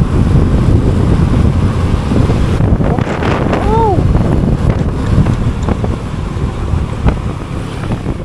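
Steady, rushing wind buffets the microphone throughout a long ride to Silang, Cavite, a broad roar with a brief chirping sound partway through.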